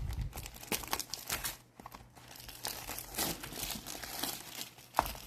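A Topps Chrome Platinum Anniversary trading card pack wrapper is torn open by hand without scissors, producing close, quiet crinkling and ripping foil sounds in irregular bursts with short pauses between.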